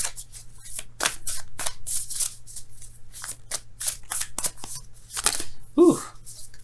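Tarot cards shuffled by hand in a series of crisp riffling bursts with short pauses between them, close and fairly loud, with a brief voice near the end.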